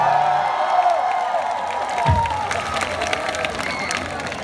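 At a DMZ peace music festival, a crowd applauds and cheers loosely, a brief burst of clapping and whoops at moderate level, thinning and continuing in the background.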